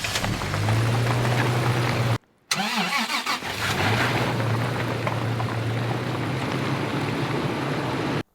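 A manual car engine is cranked and started while left in gear, then settles into a steady idle hum, with a brief cut-out and a lurching restart midway.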